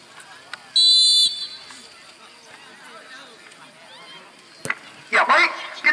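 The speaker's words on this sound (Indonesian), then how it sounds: "kita lihat baru saja wasit Zakaria membunyikan peluit panjang dan dimulainya kick off babak kedua." A referee's long whistle blown to start the second half of a local village tournament football match, a bright sustained blast about half a second long over crowd chatter, followed later by a louder burst of noise.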